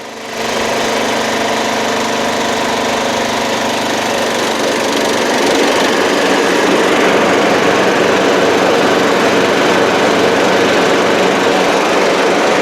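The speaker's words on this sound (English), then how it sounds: "Now let's engage the PTO." A Yard Machines MTD lawn tractor engine runs steadily at close range, and its drone thickens and grows slightly louder as the mower deck PTO engages, then holds a constant roar.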